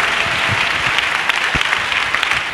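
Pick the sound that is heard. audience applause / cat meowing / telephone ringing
audience applause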